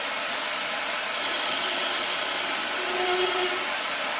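A CNC lathe controlled by an Arduino takes a light threading spring pass with the half nut engaged, giving a loud, steady machine whir with a faint tonal hum and no talk.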